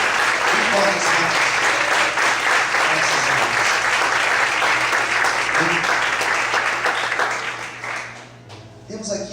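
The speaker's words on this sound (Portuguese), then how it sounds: "Já aplaudir bem forte, Senhor." A church congregation applauds loudly during a sermon about Zacchaeus, a dense, sustained roar of many clapping hands close and full, with some voices mixed in, fading toward the end.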